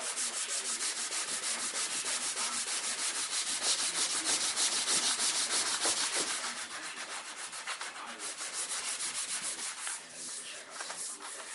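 Hand sanding the radiused edges and inside cove of a solid surface countertop with 80-grit produces a steady, close, raspy rubbing with rapid back-and-forth strokes, easing slightly toward the end.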